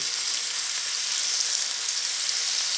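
Chicken fries in bacon grease in a cast iron pan, a dense, even, high-pitched sizzle holding steady and loud from start to finish with nothing else over it.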